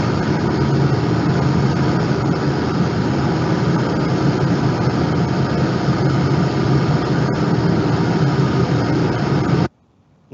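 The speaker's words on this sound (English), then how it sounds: "we are going to check first how it sounds, the nude or bare metallic duct." Broadband HVAC noise played through a bare metallic 300 by 300 duct is a steady, loud rushing hiss with a low rumble, unchanging for about ten seconds before it cuts off abruptly.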